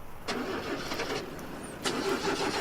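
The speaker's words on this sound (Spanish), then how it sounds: "Tomé mis llaves e intentaba arrancar el auto para salir de ahí." A car engine being cranked with the key, two separate starter bursts that turn over and briefly catch, loud and close, with a rough mid-pitched rumble between attempts.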